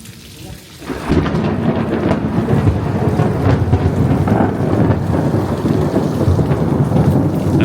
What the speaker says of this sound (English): Yeah, we're having a proper thunderstorm.